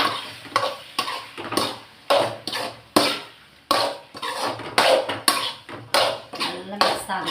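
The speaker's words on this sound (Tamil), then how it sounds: "இப்போ இதை நம்ம நல்லா மிக்ஸ் பண்ணி விட்டுக்கலாம்." Pasta being stirred and tossed in a pan with tomato sauce for a home lunch, a steady run of scraping, clattering utensil strokes against the pan over a faint sizzle, fairly close and even in rhythm.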